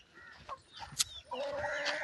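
Chickens cluck in short, bright bursts close by against a quiet outdoor background, the calls coming in a few quick phrases over two seconds.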